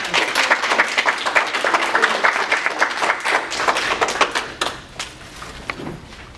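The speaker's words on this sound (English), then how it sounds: "I think we need to give him a big round of applause." An audience at a library Space Week presentation applauds a speaker, with dense clapping that is loud at first and then thins into scattered, sharper individual claps over about six seconds.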